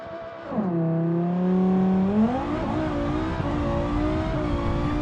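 A Civetta Scintilla in BeamNG with a 250 kW nitrous shot from second gear launches hard. A loud, close engine roars and climbs steadily in pitch, then shifts and keeps pulling.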